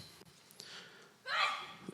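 A single short, sharp sneeze bursts out, loud and close, after a stretch of quiet room tone with faint sounds.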